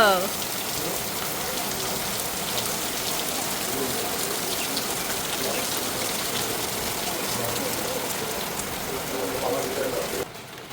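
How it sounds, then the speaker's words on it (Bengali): Heavy rain pours down continuously outside a home, a dense, even hiss of drops on surfaces that holds steady throughout until it drops away abruptly at the very end. "দেখেন বৃষ্টি ভালোই লাগে বৃষ্টি দেখতে"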